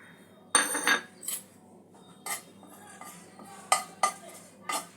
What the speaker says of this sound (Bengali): প্রথমে জিরে আর মৌরিটা একটু ড্রাই রোস্ট করে নেব।